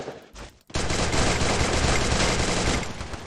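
Sustained rapid gunfire from a mobile battle-royale shooter game, loud and dense after a brief dip, with fast bursts running continuously for about three seconds.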